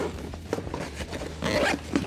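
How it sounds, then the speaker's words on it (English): YKK zippers on a 5.11 Rush 12 backpack rasp open and closed in several quick pulls, close and clear, with fabric rustling between strokes. "self-repairing zippers from YKK"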